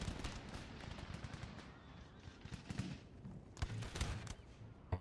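Quiet, crackling musket volleys from line infantry in Empire: Total War, ragged bursts of rapid shots with louder clusters toward the end, faint and without talk.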